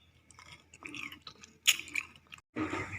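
Close, crisp chewing and biting of rose apple (jambolan) fruit, with irregular wet crunches and mouth sounds, a louder bite near the middle and a brief silence before chewing resumes.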